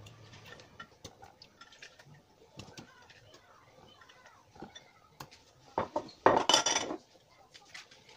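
Vegetables such as carrots go into a Cookeo multicooker pot for a quick Moroccan couscous, with scattered clinks and knocks against the pot and a louder clattering burst near the end, amid quiet kitchen background.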